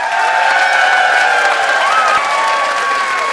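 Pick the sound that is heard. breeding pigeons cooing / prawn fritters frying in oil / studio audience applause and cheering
studio audience applause and cheering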